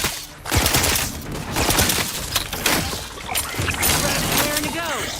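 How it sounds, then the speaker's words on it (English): Rapid bursts of shock rifle fire during a chaotic brawl in The Outer Worlds 2, crackling volleys and impacts repeating through the clip, mixed with game effects and shouted voices. "shock rifle's nice"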